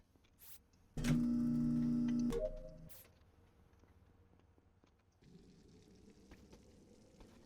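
Water bottle task in the video game Among Us, a loud synthetic pouring and glugging burst of about a second and a half, followed by quieter game ambience and a low hum.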